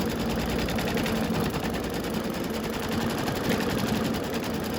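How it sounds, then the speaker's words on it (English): An embroidery machine stitches down a snowman appliqué on a quilt block, producing a fast, steady mechanical whirring and rhythmic needle chatter, close and continuous without speech. "now this is going to stitch down the snowman body"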